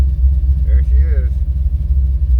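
An old truck engine idles close by with a steady low rumble throughout, and a brief higher whine rises over it for a moment in the middle.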